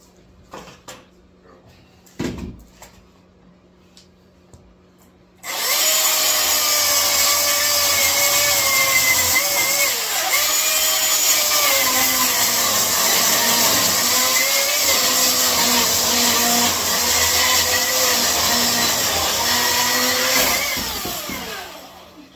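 A Milwaukee M18 Fuel cordless chainsaw starts up and runs steadily while cutting wood, a loud continuous high-pitched motor whine with rising and dipping pitch as it bites through the log, after a few faint knocks.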